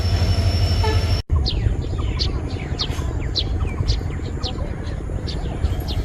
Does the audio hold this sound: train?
yes